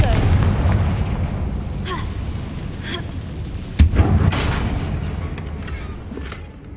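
Confringo fire spell explosions in the Hogwarts Legacy video game: a dense, rumbling game soundscape with a couple of sharp bursts near the middle and scattered crackles, spoken voice faintly mixed in.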